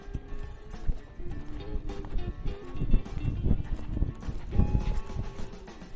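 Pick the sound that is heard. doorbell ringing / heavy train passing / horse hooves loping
horse hooves loping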